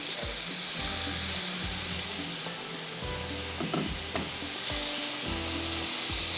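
Whole chilies sizzle loudly in hot oil with frying chicken while a yakhni pulao cooks, a dense steady crackle with a few sharper pops, close up and with no talk.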